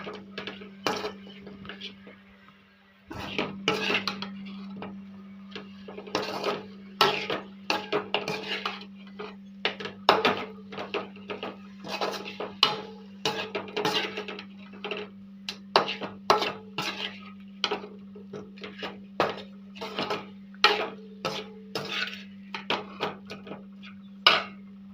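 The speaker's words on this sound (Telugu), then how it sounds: "ఇలా చూడండి ఫ్రై ఎలా చేస్తున్నాను." Chicken fry being stirred in a pan, with repeated scraping and clinking of a utensil against the metal in an irregular rhythm over a steady low hum, close and fairly loud, with voices now and then.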